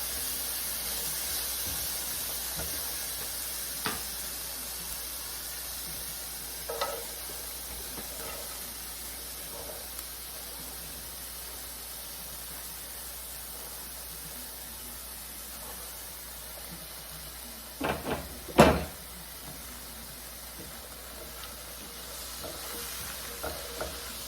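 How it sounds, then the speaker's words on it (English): Red and green bell peppers, zucchini and other vegetables sautéing in a pan, a soft steady sizzle with occasional scrapes and clatters of stirring, one louder burst of clanks near the end, no voices. "red and the green bell peppers now, along with the zucchini and all the other vegetables. With just a quick saute."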